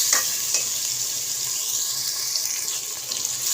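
Onions frying in a pan for a potato curry (aloo ki bhujia), a steady close hiss of sizzling oil with faint stirring clicks and no voices.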